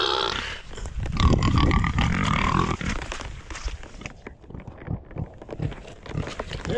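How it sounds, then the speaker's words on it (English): A pig grunting and snorting close by in a rain-soaked muddy homestead pen, a loud rough burst followed by intermittent shorter grunts and squelching sounds. "Hey, pig."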